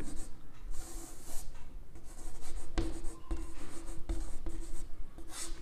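Marker or chalk strokes on a board during a chemistry lesson, a steady scratchy rubbing with a few sharper taps, close and fairly quiet with no talking.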